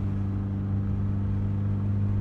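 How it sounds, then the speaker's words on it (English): A BMW E30 exhaust drones loudly with a low, steady rumble after its O2 sensor fell out, the engine idling evenly and continuously with no talk over it. "and then the exhaust got a lot louder"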